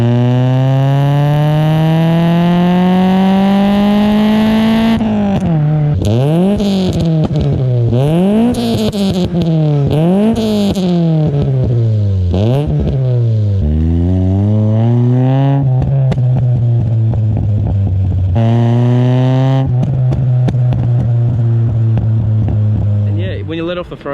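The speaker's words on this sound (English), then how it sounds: "When you let off the throttle, it backfires and pops, and it just sounds so good." A loud Pulsar car with a full exhaust system revs up and down repeatedly, roaring through the whole stretch, with exhaust backfires, pops and crackles as the throttle lifts and revs drop.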